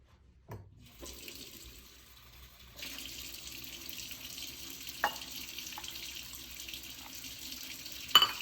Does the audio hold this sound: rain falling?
no